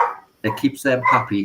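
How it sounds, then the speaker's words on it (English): A pet dog barks indoors during a conversation in a home, a few short barks mixed in with a voice talking close to the microphone. "Excuse the barking."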